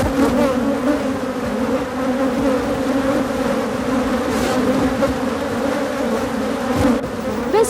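Honeybees buzz in a loud, steady drone close by, a dense swarm hum without pause.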